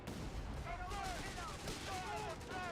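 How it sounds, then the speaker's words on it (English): Artillery booms and gunfire in a Company of Heroes 3 battle, with a 25-pounder firing at mines, heard as a busy, continuous mix of blasts and crackling shots with voices talking over it. "he's using the 25-pounder to disarm the mines"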